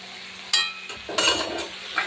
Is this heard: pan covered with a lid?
yes